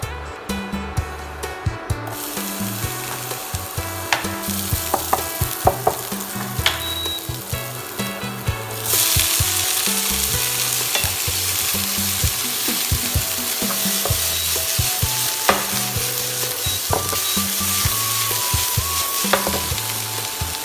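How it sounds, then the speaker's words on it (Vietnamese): Bamboo shoots stir-fry in a pan for a clear chicken and bamboo shoot glass noodle soup, giving a continuous close sizzle broken by scraping, clattering stirs that grow louder and denser partway through. No talking. "cái mình xào măng đâu đó thơm hết rồi"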